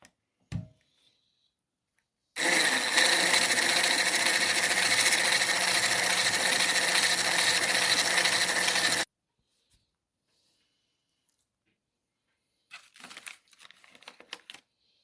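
A loud electric mixer whirs steadily for several seconds beating eggs and sugar for a sponge cake, then stops, followed by silence and some soft clattering.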